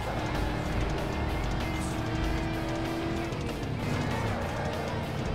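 A Ford Mustang accelerates in the racing game Need for Speed Most Wanted (2005). The engine roars continuously and loudly up close, its tone climbing, with brief tyre squeal and a shift in pitch partway through.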